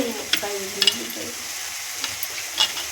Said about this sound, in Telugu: కచ్చా పచ్చాగా కొట్టి వెల్లుల్లి చిరుగొట్టినట్టు వేస్తున్నామండి.